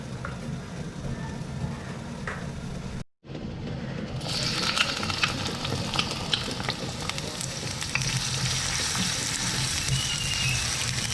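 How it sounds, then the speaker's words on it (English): Steady sizzling of onions frying over low heat in 2 to 3 tablespoons of oil in a wok, continuous and fairly close, briefly cutting out before resuming louder and brighter. "We are going to fry in the onion."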